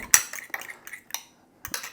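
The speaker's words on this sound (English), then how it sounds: "just whisk it again with my fork" A fork clatters quickly against a bowl while whisking scrambled eggs, making a few sharp metallic ticks in two short bursts with a brief pause between them.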